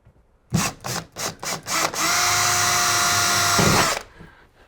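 Drilling center punch points with a 2.5mm drill while fitting tailgate blackout curtains to a VW T5 or T6 campervan: several short whirring bursts, then a sustained close, high-pitched drilling run that stops abruptly.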